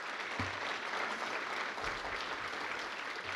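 Applause from an audience at a university celebration honouring an absent music professor, a steady broadband wash of clapping lasting a few seconds with no voices over it.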